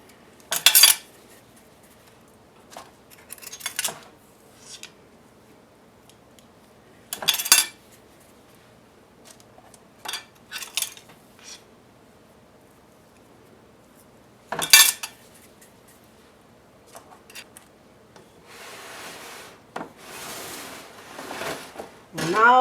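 Teaspoon scooping cookie dough from a bowl, with sporadic sharp metallic clinks and short scrapes separated by quiet pauses.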